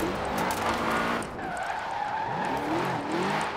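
A stock-upgraded 2013 BMW M6 Coupe Forza Edition drifts in Forza Horizon 4, its engine droning steadily under continuous wavering tire squeal that rises and falls through the slide, close and loud.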